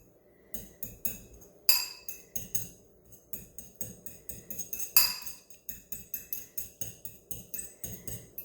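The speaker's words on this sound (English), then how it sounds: "Now we're going to take a fork and we're going to mash up that yolk" A metal fork mashing hard-boiled egg yolk in a dish, giving a steady series of close, bright clinks and taps against the bowl with a few louder strikes.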